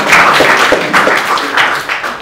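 Audience applause at a live Android coding talk, a steady wash of clapping from a crowd lasting a couple of seconds, fairly loud and continuous with no talk over it.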